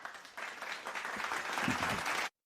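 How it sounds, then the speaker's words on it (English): A small group claps at the close of a podcast segment, a short patter of hands that builds slightly louder before stopping abruptly, with no talk over it. "just give it a round of applause for us, guys"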